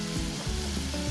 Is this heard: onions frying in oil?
yes